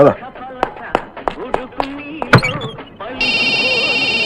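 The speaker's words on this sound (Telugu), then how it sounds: "ఫోన్ సార్, ఫోన్ తీయండి." A telephone rings with a bright, repeating electronic trill near the end, after a stretch of scattered knocks and voices.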